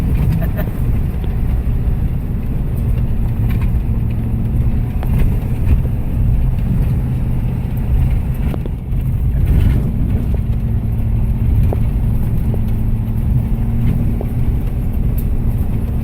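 A pickup truck tows an Arctic Fox travel trailer up a dirt road on a 4% grade near Telephone Cove, Nevada, producing a steady, loud low engine drone with continuous road rumble throughout.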